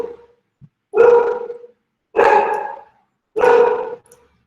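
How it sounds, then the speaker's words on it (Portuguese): A pet dog in a house barks three times, each bark loud, close and evenly spaced about a second apart, with nothing else heard between them. "Peraí, que é o meu cachorro, desculpa"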